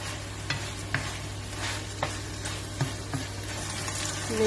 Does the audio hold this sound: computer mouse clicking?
no